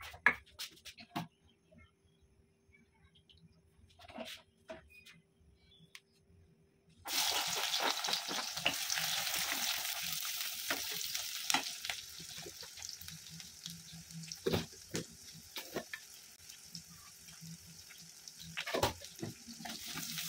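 Onions frying in mustard oil with salt and turmeric, a steady close sizzle that starts abruptly after a quiet stretch and continues with occasional stirring clinks and scrapes from a pan.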